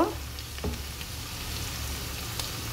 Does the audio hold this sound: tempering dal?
yes